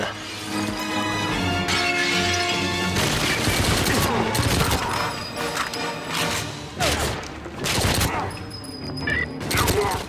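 Loud bursts of gunfire and metallic crashes ring out in GoldenEye 007 on the Wii as shots blast open a padlock in the St. Petersburg archives level, with rapid shot clusters over music-like game sounds.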